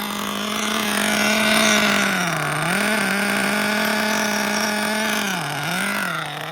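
The brand-new nitro engine of a Mugen MBX5 1/8-scale RC buggy runs too rich after sitting for 14 weeks put away wet. It gives a loud, close, steady buzzing drone with a few brief dips in pitch.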